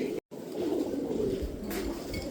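Pigeons of the Budapest and Gorra breeds cooing steadily and close by in a loft, a low continuous burble with a brief break near the start.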